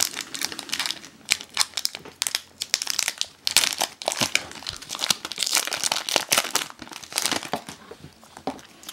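Pokémon card booster packs being torn open by hand, with dense, close crinkling and ripping foil wrappers in irregular bursts throughout, without any speech.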